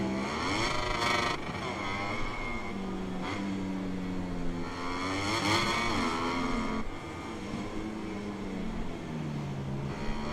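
Race cars in a sim racing video game at a Kazakhstan circuit, engines droning and shifting pitch as they accelerate and change gear, with several overlapping car sounds running continuously.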